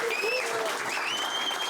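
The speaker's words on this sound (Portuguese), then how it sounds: "uma forte salva de palmas para o João" A talk-event audience breaks into applause for the speaker, steady dense clapping throughout, with a few whistles riding over it.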